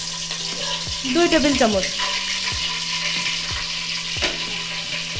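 Onion paste hits hot oil for a mutton curry, giving a steady sizzle with regular spoon clicks against the pan, and a voice speaks briefly near the start.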